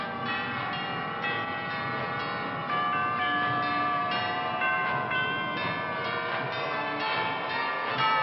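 Magic bells ringing in an Italian animated series battle scene, a dense, sustained wash of bright chiming tones with steady rhythm over a loud, full background, no talking.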